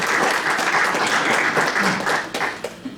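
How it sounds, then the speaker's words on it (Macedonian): Sustained applause from the audience at a poetry evening, dense steady clapping filling the whole stretch, fairly loud and without pauses. "Овде треба да има аплауз"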